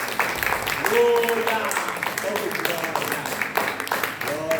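A church congregation claps to welcome an evangelist during a service: rhythmic, moderately loud applause mixed with voices calling out and speaking over it.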